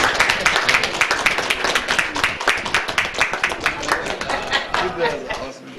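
Dense clapping from the audience at a special city commission meeting in Palatka, a steady patter of many hands that keeps going for the whole stretch before tapering slightly at the end.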